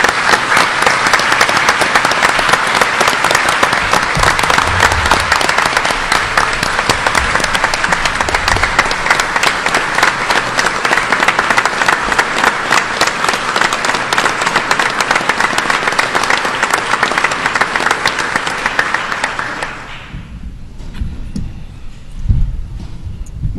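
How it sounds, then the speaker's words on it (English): A large indoor audience at a community reconstruction meeting applauds first responders, with dense, steady clapping for about twenty seconds before it abruptly dies away into quiet room noise with a few scattered claps. "let's give them a round of applause"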